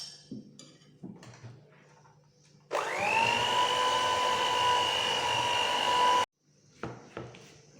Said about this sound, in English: you mix it again until everything is combined